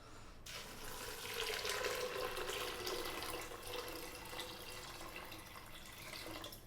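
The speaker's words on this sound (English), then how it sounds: "Now we're going to add some water." Tap water pouring steadily into a large pot of washed peas and rice, a continuous full splashing rush heard up close and alone, starting abruptly and running throughout.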